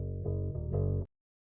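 Clean DI bass guitar for an 80s pop and 70s disco style beat, a few sustained low notes played in a short phrase that stops abruptly, dry and close with no talk.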